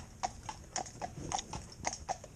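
Hooves of a cob mare clip-clopping in a steady walking rhythm, a dozen or so crisp hoof strikes fairly close by, with no talking.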